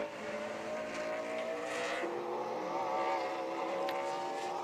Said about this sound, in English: as here comes Van Meter, lap number 2